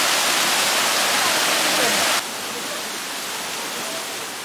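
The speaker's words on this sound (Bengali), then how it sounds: "এখন যে স্টেপে এসেছি সেখানেও একসাথে 4-5 জায়গা দিয়ে পানি পড়ছে" Water pours down from four or five points at once on a stepped waterfall near Darjeeling, a loud, close, roaring rush that abruptly drops to a softer steady roar partway through.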